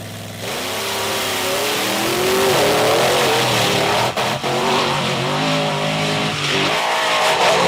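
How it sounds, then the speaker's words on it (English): Monster trucks launch off the line in an arena drag race, one of them the Monster Patrol truck. Loud engines roar and rev close by, climbing in pitch as they accelerate, and a brief skid breaks through the sustained roar. "Just about even off the line, but Tom Meents a straighter run right there."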